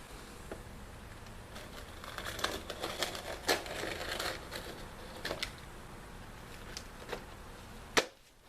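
Hook-blade utility knife pulled through an asphalt roof shingle in place, giving a run of scratchy, crinkling scrapes with sharp clicks, ending in a single louder snap.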